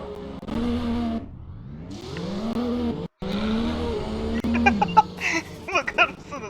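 In the Driving Empire video game, car tires squeal and the engine revs under load, with rising engine tones and sharp skidding, then clattering impacts near the end.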